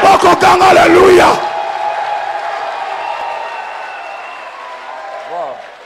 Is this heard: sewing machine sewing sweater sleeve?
no